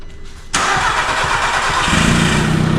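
A SEAT Ibiza engine, freshly swapped in, cranks briefly and then catches, settling into a loud, steady, rough idle with a harsh broadband roar from an exhaust that is not yet fitted.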